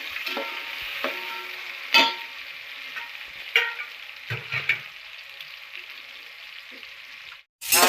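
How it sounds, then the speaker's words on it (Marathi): Tomatoes fry for a tilapia fish curry, with a continuous sizzle and the sharp clacks and scrapes of a spoon stirring the pan. "असा कलर येतोपर्यंत जरा टमाटे चांगले शिजलेपर्यंत पाहिजे. मग असे तळून घ्यायचे."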